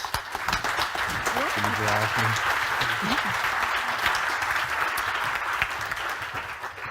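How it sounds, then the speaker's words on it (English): A conference session audience claps steadily for panelists, the applause dense and continuous, with a few voices and a brief tonal sound in the middle. "So please give them a round of applause."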